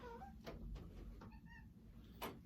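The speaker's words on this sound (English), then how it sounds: "Still can't figure out that door, that cat." A cat meows a few times near a door, faint and indoors, with soft knocks and bumps between the calls.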